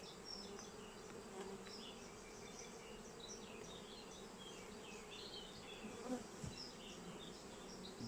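Honeybees buzz steadily around an open beehive with a young queen, a faint, dense, continuous hum with individual bees droning past close by.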